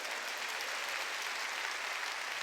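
Steady, fairly faint clapping from a church congregation during a Korean Sunday worship sermon, a continuous wash of many hands heard from a distance, with no voices over it.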